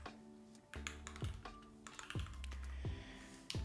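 Typing code on a computer keyboard, a close run of quick key clicks in uneven bursts with a few louder clacks, heard alone without voices.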